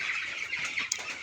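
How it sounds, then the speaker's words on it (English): Hungry broiler chickens in a flock, a dense continuous clucking and chirping chorus waiting to be fed, with one sharper call near the end. "Now the chickens need feeding. That's why they are very noisy at this particular time."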